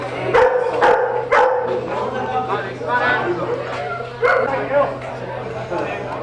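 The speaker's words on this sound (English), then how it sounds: "Sunshine and a barking dog" A dog barks several times, sharp and fairly close, at a small-town baseball game, mixed with crowd chatter and talking voices over a steady low hum.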